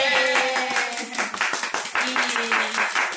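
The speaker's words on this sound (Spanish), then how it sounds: "Un aplauso para todo el equipo" A small group claps for a film crew on a music video shoot, quick close handclaps mixed with cheering voices and a sustained vocal tone.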